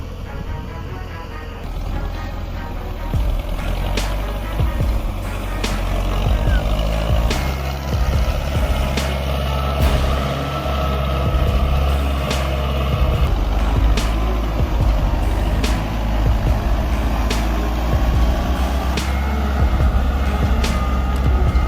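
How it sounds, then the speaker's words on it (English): Heavily loaded tractor hauling 10 tons of cabbages up a steep slope, its engine laboring with a deep, loud rumble and shifting pitch, joined by regular high beeping or clanking ticks across the span. "The tractor hauls 10 tons of cabbages, moving heavily as it climbs steep slopes."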